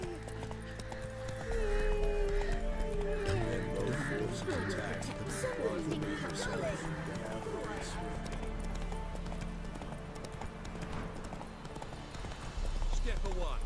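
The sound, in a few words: horse trotting in video game The Witcher 3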